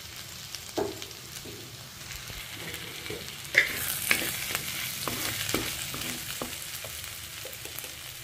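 Seema chintakaya curry with turmeric and salt frying in a pan on a low flame, a soft steady sizzle broken by occasional scrapes and stirs of a spoon.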